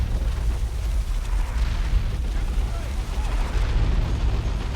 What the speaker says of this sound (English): Orbital Bombardment, is that what we're seeing?